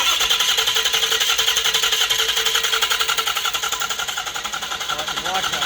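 A Ford 6.0L Powerstroke diesel engine cranks over at length, a rapid rhythmic whirring pulse, loud and close, as a voice talks over it.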